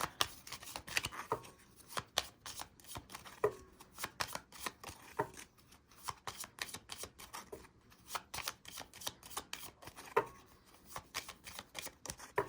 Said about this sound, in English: Okay, one more shuffle, and then I'll pull from the top.